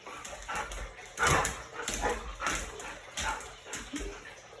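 A dog whines and yips excitedly in a rapid series of short, high, pleading cries, close by and fairly quiet.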